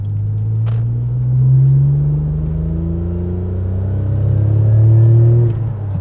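Mitsubishi 3000GT turbo engine under light acceleration, a deep steady rumble that climbs gently in pitch twice before easing off, heard close and clear with no talking.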